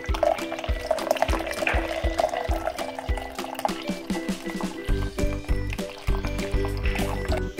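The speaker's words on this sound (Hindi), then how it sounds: "अब हम इसमें दोबारा से ये सारा दूध ऐड कर रहे हैं" Strained milk is poured back into a container in a steady, continuous liquid stream with gurgling splashes and occasional clinks.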